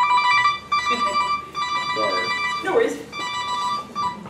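A cell phone ringtone goes off in a room during a beekeeping class, a steady electronic ring repeating in bursts under a person talking nearby.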